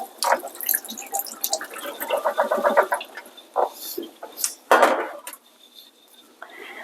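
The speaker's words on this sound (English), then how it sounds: "So go ahead and strain that water off." Rinse water strained off freshly harvested chives in a kitchen sink, with splashing and dripping bursts that come and go over several seconds, close by and moderately loud.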